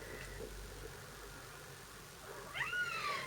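A house cat gives a single short meow near the end, fairly faint, over a steady low background hum in a quiet room.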